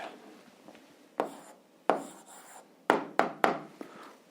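Pen or pencil writing out an answer to an eighth-grade algebra exercise, a few sharp scratchy strokes in quick bursts, close and fairly quiet, with no talk.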